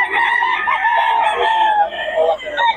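A Gilmore Hatch gamefowl rooster crows loudly and close by at a gamefowl sale, one long drawn-out call filling the moment, with faint talk in the background.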